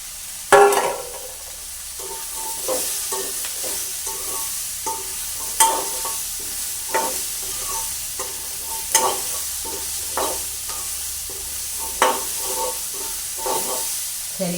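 Peanuts are stirred and fried in a pan, a soft steady sizzle broken by a series of sharp scraping clacks from the spoon at irregular intervals, close and fairly quiet.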